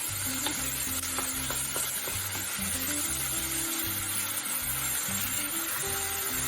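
Canned tomatoes are added a little at a time to a hot pot for meatball tomato sauce, giving a continuous, fairly loud sizzle over a low steady hum.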